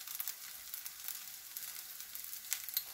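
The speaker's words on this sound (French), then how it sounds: "on finit de laisser croustiller la pâte en dessous" Pizza dough with vegetables and paneer crisping underneath in a frying pan gives a steady, quiet sizzle with faint crackles throughout, and a couple of sharper pops near the end.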